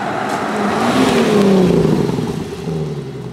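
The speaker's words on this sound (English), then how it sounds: "get that V12 noise in the cabin" Aston Martin V12 Vantage V12 engine revving as heard from inside the cabin, a loud rising snarl that climbs in pitch, peaks, then eases off as the revs fall.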